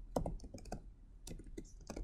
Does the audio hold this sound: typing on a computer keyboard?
yes